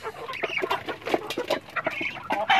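Native chickens cluck in a backyard flock, a busy stream of overlapping short clucks and squawks close by, with no talking.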